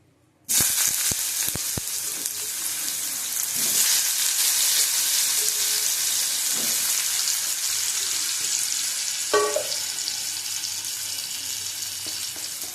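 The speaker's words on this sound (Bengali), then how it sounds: "কড়াই তেতে গেছে, তেল দিয়ে দিয়েছি। আলুটা ভেজে নেবো।" Potatoes drop into hot oil in a wok and fry with a sudden loud sizzle that settles into a continuous crackle, with a few clinks and stirring sounds.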